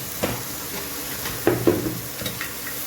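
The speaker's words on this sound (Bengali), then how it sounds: "সব দিয়ে সুন্দর করে একটু ভাজা ভাজা করে নেব।" Beans, carrot, broccoli and peas fry in a pan with a soft continuous sizzle, broken by a few louder stirring scrapes and clatters, close by with no talking.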